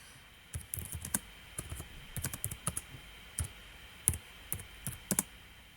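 Keys on a computer keyboard clack in irregular bursts of sharp, close taps with short pauses between them, with no talking over them.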